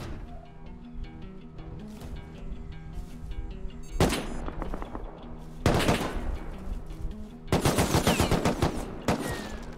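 Turret gunfire in the video game Rust comes as rapid automatic bursts over a continuous mechanical drone, with loud sustained volleys near the middle and end of the stretch.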